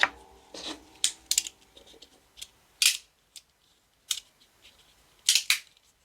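A 3D-printed fidget slider fitted with stainless steel plates gives a series of sharp, crisp clicks, single and doubled, spaced irregularly with quiet gaps between, close and fairly loud with no talking.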